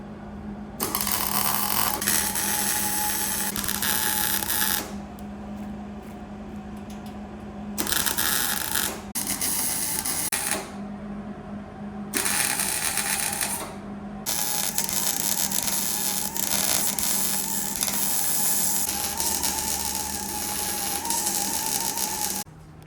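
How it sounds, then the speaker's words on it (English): Welding a steel brace into a car's core support to hold the bottom of an intercooler during custom bumper fabrication: a steady, harsh crackling buzz that runs in long bursts with short pauses between welds, close and loud, no talking. "So I'm gonna weld this in, and then we will get the bumper on."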